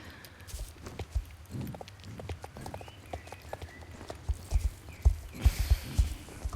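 A pony mount's hooves clip-clop in a video game near the village of Silverglade, soft irregular hoof beats that grow louder and more regular toward the end.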